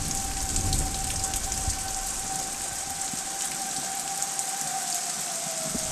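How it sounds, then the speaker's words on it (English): Steady rain from a tornado-warned thunderstorm pours down, pattering on surfaces with a dense hiss, while a faint siren tone lingers far off in the background. "Right now it's just the rain."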